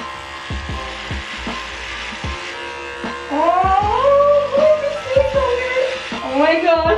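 Electric hair clippers with the guard removed shave a head close to the scalp, a steady buzzing hum broken by sharp clicks while someone talks over it.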